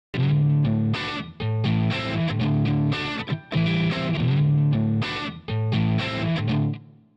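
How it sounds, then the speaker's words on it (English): A heavily distorted electric guitar through a power-tube amp plays crunchy, grinding chords and riffs, loud and continuous with brief gaps, a thick saturated amp tone. "tend to produce a more crunchy, grinding distortion"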